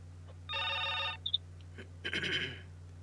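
A telephone ringing in two short electronic bursts over a steady low hum, with a couple of faint blips between them and no talk.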